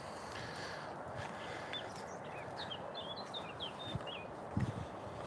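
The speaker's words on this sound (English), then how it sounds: "It's probably a blackbird here in the UK" Faint birdsong, probably a blackbird, carries outdoors in the UK: a run of short chirping phrases over a steady wash of background noise, with a few soft thuds near the end.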